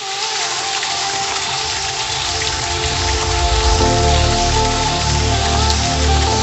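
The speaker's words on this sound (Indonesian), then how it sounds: "jadi ini merupakan air terjun tingkat 4" The fourth tier of a waterfall gives a steady, loud broadband rush of falling water that continues without a break and swells slightly in the second half.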